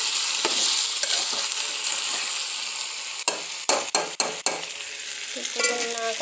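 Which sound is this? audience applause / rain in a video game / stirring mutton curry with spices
stirring mutton curry with spices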